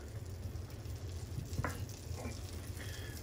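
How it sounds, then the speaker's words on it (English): Butter melting in a pan, a quiet, even sizzle with a couple of faint utensil scrapes, heard close and alone. "we're gonna take our butter and we're gonna go into the pan with it"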